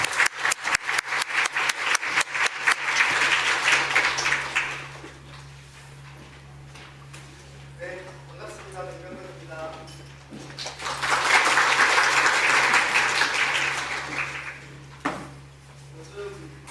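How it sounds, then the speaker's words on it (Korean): Applause comes from the audience at a National Assembly seminar on won stablecoins. First some sharp, close claps, then two swells of clapping from the crowd with a quieter, rustling gap between them and a low steady hum underneath. "큰 박수로 모시겠습니다."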